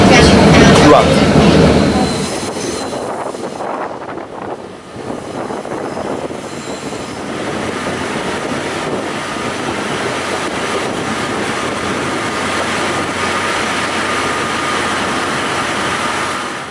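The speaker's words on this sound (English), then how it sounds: "our train just departed Rangam station, reaching my destination, Kluang." A Malaysian passenger train rumbles along at speed from Rengam station toward Kluang with a steady, broad roar and faint rattling, loud at first then settling into a constant drone.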